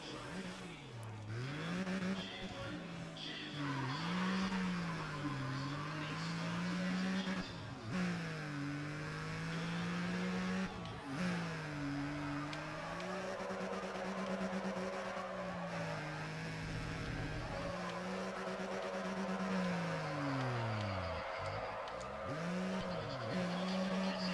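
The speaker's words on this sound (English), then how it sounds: "this car was just made for drifting." A car in the racing game NFS ProStreet drifts, its engine revving and rising and falling continuously while tires squeal through long slides, with someone talking over the action.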